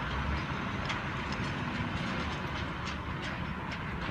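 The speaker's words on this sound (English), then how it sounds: "Another cane train." A double-header sugar cane train rolls past at steady volume, its wagons giving a continuous rumble with faint rhythmic clicking of wheels over rail joints, with no voices.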